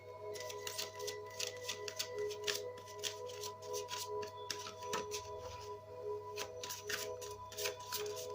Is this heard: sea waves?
no